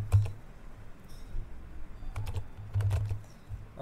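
Typing on a computer keyboard during a Windows 11 settings fix, with quick, uneven key clicks coming in bursts, close and fairly quiet, and no talking.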